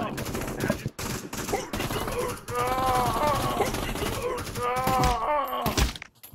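Gunfire in the VR shooter Pavlov VR, a series of sharp, loud shots and thumps in quick bursts, mixed with groaning voices and other game noise.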